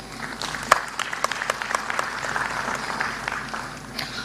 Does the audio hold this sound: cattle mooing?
no